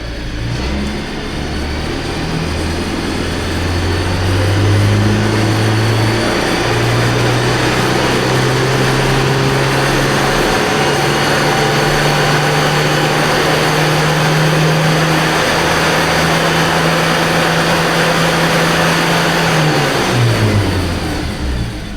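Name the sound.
car engine revving up to 5000 RPM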